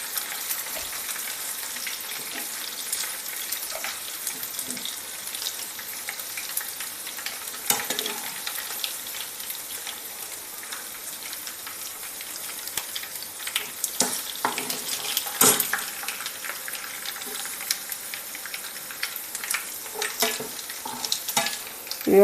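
Mustard seeds and dried red chillies fry in hot oil for a tempering, a steady hiss with scattered sharp pops and crackles and occasional scraping stirs, close and without talk.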